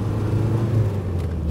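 A 1959 Mercedes 180D diesel sedan pulling at full throttle on the road, a steady, loud low engine drone with a droning hum and light road rumble, heard from inside with no voices.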